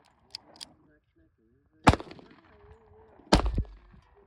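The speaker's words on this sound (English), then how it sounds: "Did that 380 shoot all right after I got the safety off, Wade?" Two sharp, loud gunshots from a small .380 pistol at an outdoor firing range ring out about a second and a half apart, each with a short echoing tail, with faint voices and small clicks between them.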